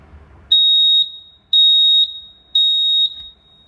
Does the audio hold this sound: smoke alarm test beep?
yes